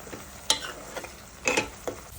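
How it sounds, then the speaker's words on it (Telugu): Onions fry in a pan with green chillies, mint and curry leaves, giving a low background sizzle broken by a few sharp scraping stirs close by. "ఉల్లిపాయలో ఉన్న నీరంతా ఇంకి బ్రౌన్ కలర్ వచ్చే వరకు వేయించుకోండి."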